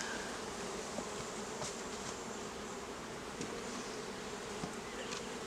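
Honeybees buzz around an open hive box in a continuous, even hum of many insects, moderately close, with a few faint clicks and knocks from handling the equipment.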